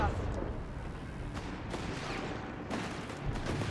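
Artillery from a Scott bombardment in Company of Heroes 3 thuds and rumbles at a distance, scattered impacts landing fairly low in level under dense battle noise.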